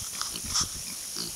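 Pigs in a makeshift farm pen give a few low grunts and snuffles, close by and moderately loud, with a brief squeal partway through and no talking.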